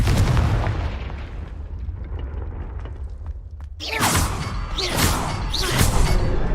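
Confringo fire spell in the video game Hogwarts Legacy: a low rumble and whoosh, then a burst of sharp, repeated explosive blasts with crackling debris.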